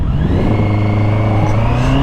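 A 2024 Honda CBR650R with E-clutch bogs down at low revs, making a loud, close, steady rumbling engine drone with no talk.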